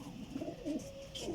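A parwazi flying pigeon from Jhelum coos in short, soft, throaty pulses, heard close but quiet over a low background hum.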